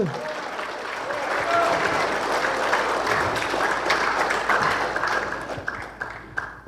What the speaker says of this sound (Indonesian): Tepuk tangan untuk kita yang hadir.